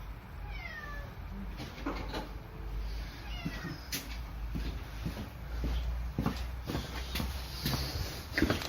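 A cat in a workshop meows several times, drawn-out cries early on and again midway, mixed with shuffling, light knocks and handling noises nearby.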